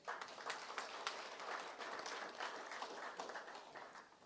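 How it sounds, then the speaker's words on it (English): Applause from the audience at a parliamentary forum symposium on climate change, a steady wash of many hands clapping that holds at moderate loudness for several seconds and then slowly fades. "Another round of applause."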